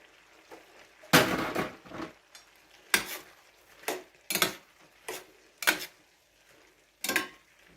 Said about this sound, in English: I'm gonna go ahead and I'm gonna empty my green peas.